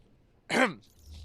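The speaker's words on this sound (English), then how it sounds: "Had to clear my throat there a little bit." A man clears his throat once, a short, rough, close-up rasp lasting under half a second, with quiet room tone before and after.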